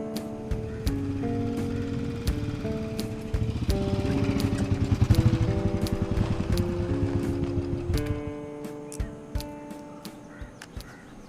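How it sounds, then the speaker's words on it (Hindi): A motorcycle rider passes through a dubbed film scene, the engine's rapid chatter swelling toward the middle and fading again beneath sustained background music tones and sharp clicks. "वहां से एक मोटरसाइकिल सवार गुजर रहा है"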